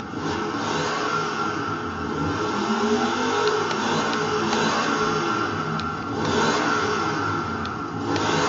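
Corvette engine in the racing video game Forza Horizon 4, a loud continuous engine drone with swelling revs, steady and close with no talking.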